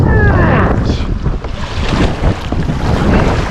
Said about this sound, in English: This wind absolutely sucks